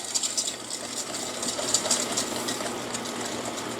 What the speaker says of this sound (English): then we're going to add the sugar into the wet ingredients while we're whisking.